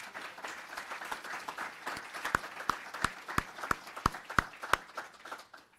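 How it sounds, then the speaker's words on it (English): Applause at a university athletics announcement event: a moderate crowd claps in a dense, steady patter, with several louder, sharper individual claps standing out close by. "So I want to give them a round of applause."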